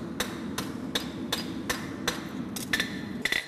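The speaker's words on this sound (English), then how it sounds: "First few blows are straight down the side, and then I'm going to go right into the corner" A blacksmith's hammer strikes hot steel on an anvil while drawing out a clip. About eight sharp, ringing blows land at a steady pace, the last few coming in quicker pairs.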